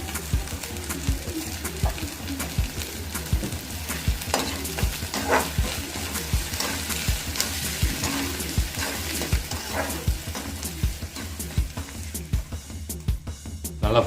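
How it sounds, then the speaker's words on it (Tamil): Onions and mustard seeds sizzle in hot oil for a Tamil dry fish curry, a loud steady crackle close up with repeated scrapes of a stirring spoon and birds cooing faintly in the background. "இப்போ நல்லா வெங்காயம் கடுகெல்லாம் நல்லா ஃப்ரை ஆகிடுச்சு"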